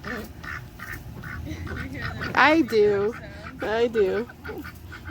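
Ducks in a garden quack and honk close by, with loud nasal calls in two bursts, while a person speaks briefly.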